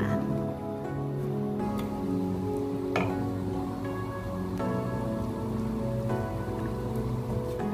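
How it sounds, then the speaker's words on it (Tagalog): Coconut milk with unripe papaya and lemongrass starts to simmer in a pot, giving a steady, soft bubbling and patter like light rain, with occasional faint ticks and clinks throughout. "nag-uumpisa na pong kumulo yung gata"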